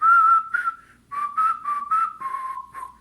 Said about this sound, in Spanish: Y los niñitos que están en cuarto año silban.